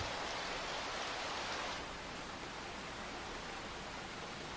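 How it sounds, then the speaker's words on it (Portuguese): Steady rain falls on an Australian billabong, a dense even hiss that softens slightly partway through and continues without pause. "No Billabong varrido pela chuva"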